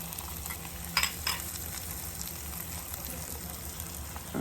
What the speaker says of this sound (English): Now I'm going to go ahead and add my eggs.